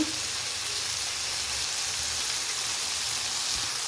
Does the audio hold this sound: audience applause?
no